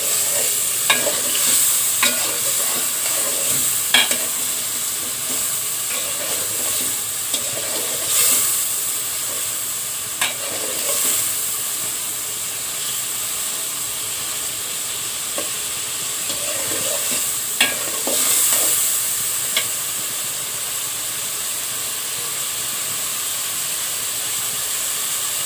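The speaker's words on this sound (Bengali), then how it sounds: "আমি সরিষার তেল দিয়েছি আর চিংড়ি মাছ ভেজে নিচ্ছি।" Shrimp fry steadily in hot mustard oil, a constant loud sizzle and hiss with occasional crackles and stirring scrapes throughout, close up with no voices.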